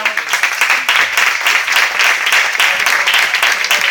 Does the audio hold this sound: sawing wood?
no